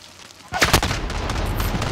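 Burst of PKM machine gun fire in a Modern Warfare video game match, a sudden loud rattle of rapid shots that keeps rumbling through the rest of the short moment.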